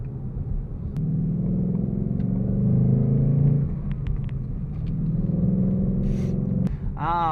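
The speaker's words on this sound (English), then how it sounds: "Here, this is a bumpy road, so just FYI" A car rolls over a bumpy road, a steady low rumble with jolts and rattles throughout, fairly loud and close, with a brief whirring rise near the end.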